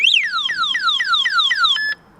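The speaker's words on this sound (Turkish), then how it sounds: "Bu kornaya Bastığınızda 3 kere ötüyor ve alarm aktif hale gelmiş oldu." Anti-theft alarm on a Motolüx electric bicycle blares loud and close, a rapid series of about seven descending electronic chirps in a steady rhythm before cutting off abruptly.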